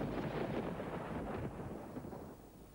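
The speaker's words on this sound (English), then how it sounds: "You always see the lightning before you hear the thunder." Deep rumbling thunder rolls continuously and loudly throughout, a broad low roar that eases slightly toward the end, with no voices.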